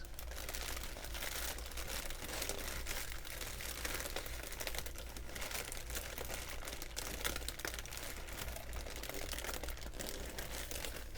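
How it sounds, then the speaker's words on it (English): Crinkling plastic packing material rustling steadily and close up throughout a camera unboxing, a dense continuous crackle with no talking. "hopefully these make a nice crinkling sound anyway"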